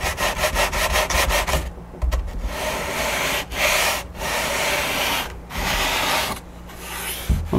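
Sandpaper rasps against the wooden edge of a model aircraft's vertical stabilizer in a hand-built SIG Kougar kit, a steady rhythmic back-and-forth scratching broken by short pauses.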